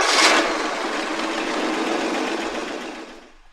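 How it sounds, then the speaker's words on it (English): Car ignition starting Foley sample: a loud, dense, hissing mechanical whir holds steady for about three seconds, then fades out. "I found a cool car ignition starting Foley"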